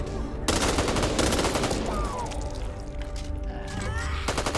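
Bursts of rapid gunfire in the video game Back 4 Blood, loud and dense, stopping briefly in the middle before another volley starts at the end.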